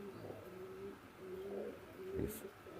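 Soft, low cooing of Pakistani teddy pigeons, several rolling coos in a row with a brief flutter near the end, fairly close and quiet.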